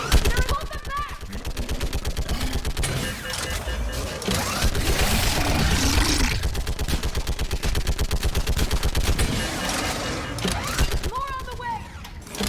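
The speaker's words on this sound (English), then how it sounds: "Get on that gun and do some damage!" Rapid bursts of mounted-gun fire in the Mass Effect 3 battle on Thessia, a dense, continuous rattle of shots over explosions and battle noise, with shouted voices cutting through the din.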